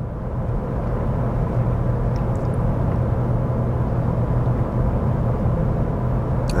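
Steady highway traffic roars beside a noise barrier wall, a continuous dense low rumble of passing vehicles at constant loudness with no talking or distinct individual passes.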